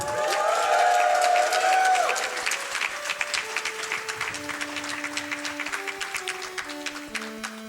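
A convention audience at a speedrunning marathon event applauds and cheers loudly for about two seconds, then the clapping thins into scattered claps under sustained tones from the game's music.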